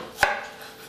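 A single sharp knife chop on a cutting board while a courgette is diced into small pieces, one crisp close hit followed by quiet, no speech.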